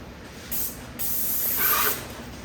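An airless paint sprayer gives short, loud hissing bursts: a brief spray, a pause, then a longer forceful blast that tapers off.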